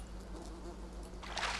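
Wasps and bees buzz in the jungle survival game Green Hell, a faint, wavering insect drone over a low hum, rising into a brighter, louder buzzing flurry near the end, with no speech.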